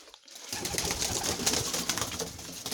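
Young Polish Lynx pigeons coo softly and continuously at close range, with a rustling, breathy wash of bird sounds and no talking.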